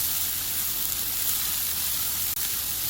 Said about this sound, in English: While our potatoes and carrots are cooking